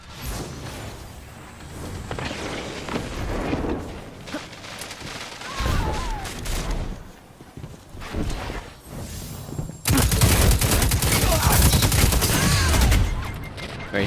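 Gunfire from a Destiny 2 PvP match, dense bursts of shots throughout, growing into a loud sustained barrage in the final seconds.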